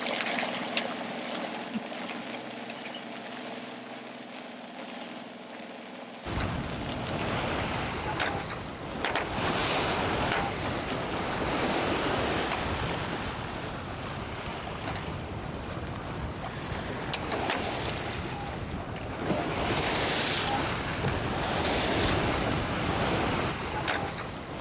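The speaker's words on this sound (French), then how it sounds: "Il y a toujours du vent. Et là maintenant c'est une grosse pluie." Heavy rain and wind lash a sailboat in roughly 20 knots of wind, a loud, continuous rush of rain and gusting wind noise that starts abruptly and swells and eases in waves.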